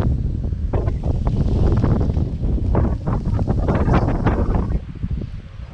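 Strong wind roars across a coastal boardwalk in Denmark, buffeting the microphone in a loud, continuous low rumble with gusty swells and no speech.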